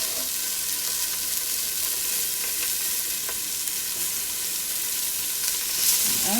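Ginger beef sizzles and fries in a pan, a loud, continuous crackling hiss with occasional stirring scrapes and a brief louder flare near the end, no one speaking.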